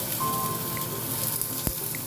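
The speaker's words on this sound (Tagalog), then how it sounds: "Then, ang sunod naman natin ilalagay ang ating patatas. So, yan, lutuin din natin siya. Pa-fried lang natin ng kaunti minuto." Potatoes frying in a pan for a Filipino crab dish, a steady close hiss of sizzling oil with faint crackles and one sharp tap partway through.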